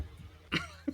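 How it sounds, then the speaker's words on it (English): A single short cough, followed by a small second burst, fairly close and quiet. "Ness coughs on her breakfast."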